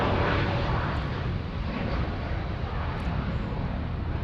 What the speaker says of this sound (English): Here we go, Jetstar off to Denpasar.